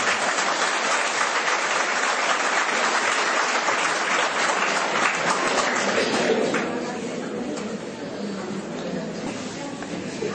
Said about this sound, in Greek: Τώρα να χειροκροτήσουμε.